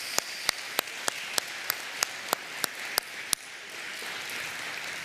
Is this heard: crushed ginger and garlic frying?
no